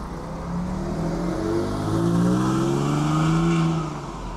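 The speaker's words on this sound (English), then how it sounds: "Boxster. That flat six sounds good." A Porsche Boxster with a flat-six engine drives past at a car meet near a farm shop. Its smooth engine note rises and then fades over a few seconds, moderately close and without voices.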